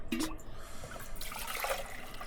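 Water poured from a wide-mouthed bottle for coffee while van camping, a faint, quiet trickle and dribble heard close up against a soft background.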